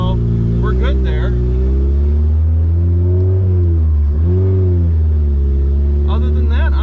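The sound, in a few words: Honda Integra project car driving on a test drive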